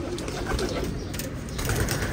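Pigeons of a breed kept for sale coo softly in their loft, a low steady murmur of cooing close by over a dense, noisy background.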